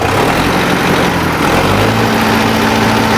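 A tractor engine idles loudly and steadily nearby, a constant low rumble with a slight shift in pitch midway.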